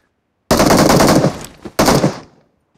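Automatic gunfire in the BGMI battle royale game crackles in two close, loud bursts, a long rattling volley followed by a short pause and a second quicker burst.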